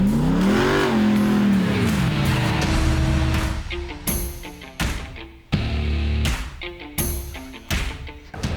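Jeep with a Hemi engine revving hard, a rising and falling roar followed by repeated sharp throttle blips and shifts, loud and close outdoors.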